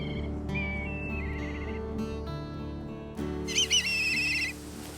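Black kites and their chicks give high, whistling calls, repeated in short runs over a dense, steady layer of background music.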